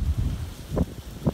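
Wind buffets a microphone outdoors beside a stone and steel bee hive stand. Low rumbling gusts rise and fall, with two stronger thumping puffs close to the mic.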